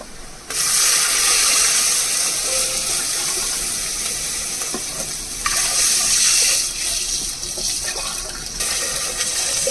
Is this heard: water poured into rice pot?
yes